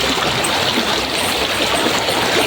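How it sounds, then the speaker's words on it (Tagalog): A river stream flows steadily, a constant close rush of water with no pauses. "Dumadaan tayo sa isang ilog dito."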